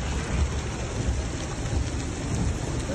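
Heavy rain pours steadily during a severe storm that brought catastrophic flooding, with a constant dense roar and low rumbles of thunder throughout, loud and close with no voices.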